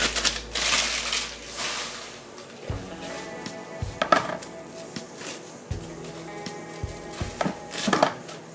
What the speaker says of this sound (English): cut into small pieces.